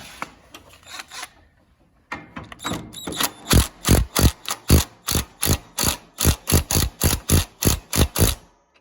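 A ratchet wrench tightening a bolt on a John Deere LT150 lawn tractor while fitting a transmission drive belt: a few quick clicks, a pause, then a close, steady run of about fifteen rhythmic ratcheting strokes.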